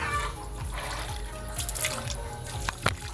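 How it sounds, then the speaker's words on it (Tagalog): Water poured onto garden plants, with a soft continuous trickle and splash and a few brief drips near the end, fairly quiet and close. "magdilig tayo sa tanim natin ba para malusog sila"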